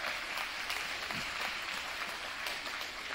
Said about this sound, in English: So a big round of applause for all of our kids once again on the great year that they've had